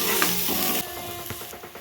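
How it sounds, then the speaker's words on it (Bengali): Spices and ginger garlic paste frying in a pan, a loud hiss that drops suddenly to a softer sizzle with faint stirring taps. "এরপর এর মধ্যে দেবো আদা রসুন বাটা দিয়ে আমরা ভালো করে আবার এটিকে কষিয়ে নেব।"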